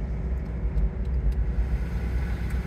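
Steady low road rumble and engine drone from a 1998 Honda Z 660 AWD kei car cruising at freeway speed, continuous and fairly loud with no talking.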